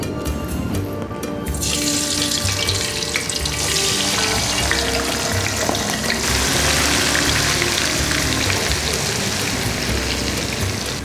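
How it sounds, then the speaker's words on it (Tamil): Baby potatoes, boiled and peeled, deep frying in hot oil give off a steady, dense sizzle and bubbling hiss that fills the whole stretch without pause, close and fairly loud, with no voices. "இதை நம்ம டீப் ஃப்ரை பண்ணி எடுக்கலாம் எண்ணெய் இப்போ சூடாக இருக்குது"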